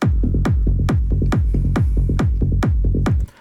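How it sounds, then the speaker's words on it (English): A peak-time big room techno groove built in FL Studio, with punchy kick hits and a rolling bass line pulsing in a fast, steady loop before cutting off at the end. "Together with the bass line, with the rolling bass line, it sounds like this"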